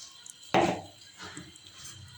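Dry black chickpeas rattle into a metal pressure cooker in one sudden clattering pour that quickly fades, followed by a softer second rattle.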